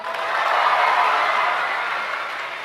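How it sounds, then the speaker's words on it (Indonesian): An audience at a gathering honouring teachers, held by the governor of West Java, applauds in a steady, even wash of clapping that swells and holds for a few seconds. "Semuanya tepuk tangan."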